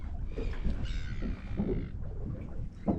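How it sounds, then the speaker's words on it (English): Crows cawing as a flock of birds passes overhead during an outdoor fishing and foraging trip, calls scattered and moderately distant over steady wind-like background noise. "A lot of birds going over top of us here."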